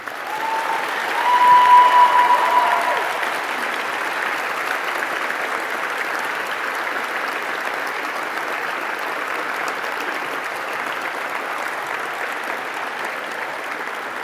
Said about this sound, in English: Give them an absolutely loud applause for the contribution they played in your life.